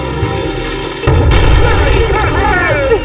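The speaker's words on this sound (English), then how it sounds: "Maybe that old cannon will work." An old cannon fires in the Skylanders: Spyro's Adventure video game, a loud deep boom that bursts in abruptly partway through and rumbles on over game music.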